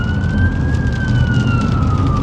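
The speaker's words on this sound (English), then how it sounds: "I think I'm about to have a fire engine come up behind me" A fire engine siren wails steadily from behind a car in road traffic, loud and sustained over a low rumble of engines, with no talking.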